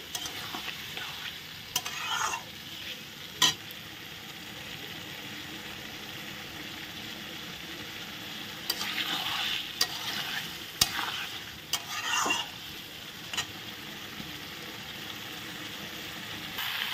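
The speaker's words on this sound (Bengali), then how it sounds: "কাঁঠালটা ঢেলে দিয়ে তারপর আমি ভালো করে নেড়ে চেড়ে ভেজে কষিয়ে নিচ্ছি" Young jackfruit and goat liver in a spiced masala sizzle steadily in a pan, while a spoon stirs and scrapes through them in sharp, irregular strokes.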